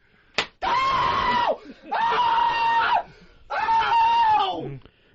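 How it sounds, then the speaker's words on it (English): A woman screams three times in long, loud, sustained bursts separated by short pauses, preceded by a brief sharp sound. "Now, who was that woman screaming?"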